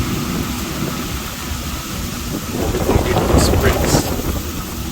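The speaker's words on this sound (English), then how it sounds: "it's pretty windy outside tonight for some reason" Steady broadband rumble of wind buffeting outdoors, swelling into a stronger gust midway before easing slightly, with no voices.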